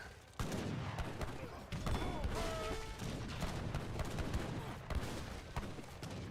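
Mortar and cannon fire in Age of Empires III during a competitive match, a dense run of booming blasts and crackling volleys over battle noise, loud and continuous, with one sharper burst near the end.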